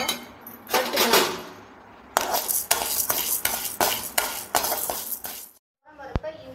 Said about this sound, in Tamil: துவரம் பருப்பை இந்த அளவுக்கு செவக்க வறுத்துக்கோங்க